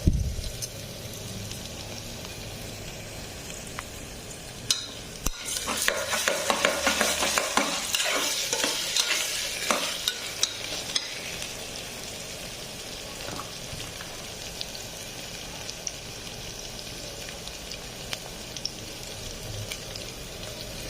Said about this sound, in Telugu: ఆనియన్ బాగా ఫ్రై అయింది